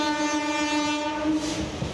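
Sustained train horn blaring loudly throughout over the rumble of a train running in toward Howrah station on a foggy morning, steady and close with no talk.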